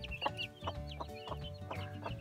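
Young chicks cluck softly in a repeated, choppy rhythm, close by, while being moved from a brooder out onto the grass; the sound is faint, with no speech over it.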